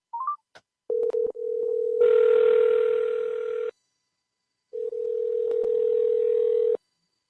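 A steady telephone dial tone sounds loud and clear, preceded by a few short clicks, then cuts off and returns after a brief pause before stopping again.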